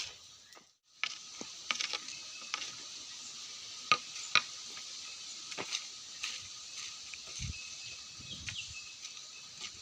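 Cashews roasting over a smoky open fire by the traditional method, a faint crackling sizzle with scattered pops and ticks, steady but low, with brief lulls.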